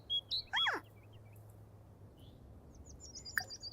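Birds in The Sims 4 give a few quick, bright chirps and a sweeping whistle near the start, then scattered faint tweets over a low, quiet background hum.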